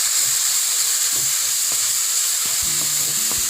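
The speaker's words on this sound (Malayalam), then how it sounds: "ഉള്ളിയെല്ലാം പച്ചമുളക് എല്ലാം എടുത്ത് ചേരുന്നത് വരെ നന്നായിട്ട് ഇളക്കി കൊടുക്കാം" Onions and green chillies fry and get stirred in a pan for a sweet spinach stir-fry, giving a steady loud sizzle with a few soft scraping stirs and no voices.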